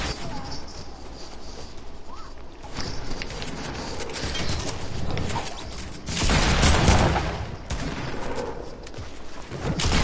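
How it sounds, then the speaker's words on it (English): Sustained video game gunfire crackles in a dense, noisy barrage of overlapping shots that swells louder midway and keeps going without a break. "You guys are shooting at me!"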